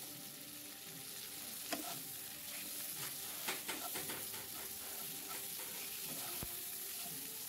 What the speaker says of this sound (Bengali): এবার এটা একটু ভাজা করে নিয়ে